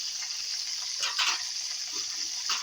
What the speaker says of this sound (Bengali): পেঁয়াজ আলু টমেটো ভালো করে ভাজা ভাজা হয়ে গেছে